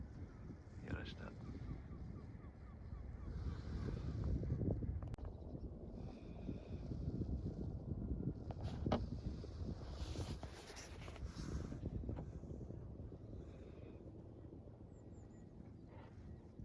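Wind rushes and buffets the microphone while a sailboat moves through a maze of islands, a low, continuous roar that swells and eases, with faint creaks and distant sounds on top.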